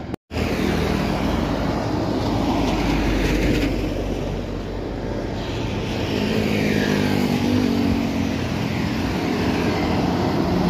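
The Berlian Jaya BJ14 Quintias bus passes on a main road through Pulorejo village in Grobogan, a sustained loud rumble of engine and tires swelling and fading amid continuous traffic noise, no talking.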